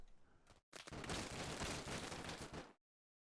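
Sustained 50 cal machine gun fire in the Combat Mission: Black Sea war video game, one loud dense burst of about two seconds after a brief opening shot, then cut to silence.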